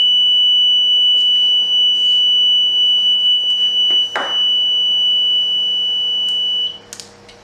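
A steady high-pitched electronic alarm tone from a Graviner Mk6 oil mist detector sounds continuously for several seconds, with a brief clatter in the middle, then cuts off.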